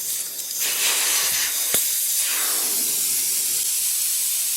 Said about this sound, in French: il suffit de dévisser et on dégonfle la roue